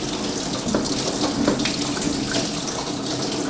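Water mixed with antifreeze drains from the cooling system of a REO Gold Comet ramp truck, a steady, continuous splashing gush with no break.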